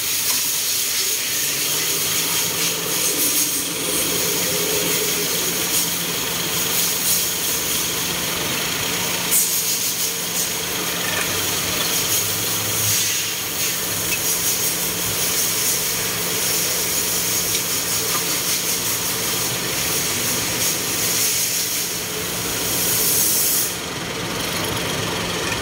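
A 2016 Suzuki Celerio with a CVT gearbox runs steadily to circulate its transmission fluid, giving a constant close hum laced with a bright hiss for the whole stretch.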